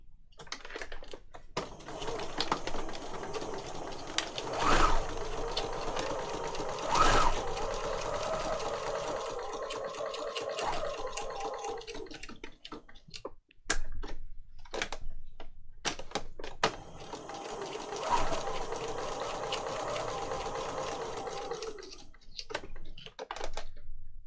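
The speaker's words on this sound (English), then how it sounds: "I can, however, now sew around the whole thing" Sewing machine stitching around the edge of a paper journal page, steady motor-driven needle chatter in two long runs with a brief pause and a few clicks between, fairly close and alone.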